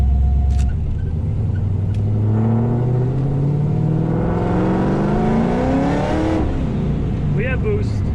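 A boosted car engine revs up steadily, rising in pitch over several seconds before dropping back, loud and close with a deep rumble underneath.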